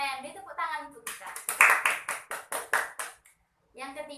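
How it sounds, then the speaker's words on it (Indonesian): Students in a classroom clap together in a short, regular burst of about eight sharp claps, close and clear. Spoken voices come just before and after. "Beri tepuk tangan untuk kita."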